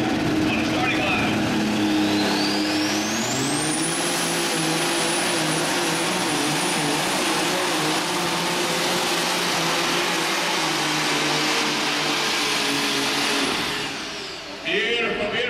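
An International 3688 tractor running an alcohol-fuelled pulling engine on the starting line at a lightweight super stock pull, roaring loud and steady with a rising whine that holds high, then easing near the end.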